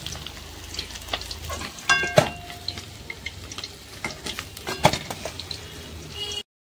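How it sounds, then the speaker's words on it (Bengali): Potatoes fry in a pan with turmeric after fish has been fried, producing a quiet, steady sizzle. A few sharp spatula scrapes and clinks sound close by, and no one speaks. "মাছে যে আলু দেবো সেটা কিন্তু হলুদ দিয়ে ভেজে নিচ্ছি, লাল লাল করে ভেজে নাবিয়ে নেব"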